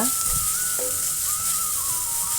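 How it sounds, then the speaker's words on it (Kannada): Capsicum and other vegetables frying on a low flame for veg fried rice, a continuous bright sizzle with a few soft stirring clicks, close and steady. "ಈಗ ಸಣ್ಣ ಉರಿಲೇ ಹುರಿಬೇಕು, ತುಂಬಾ ಇಲ್ಲ."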